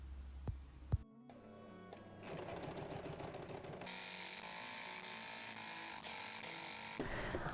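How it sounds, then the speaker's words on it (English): A sewing machine runs in a fast steady whir while stitching a double-folded hem along fabric, starting after a couple of short clicks and continuing close up without any talking. "making a double hem and stitching on top"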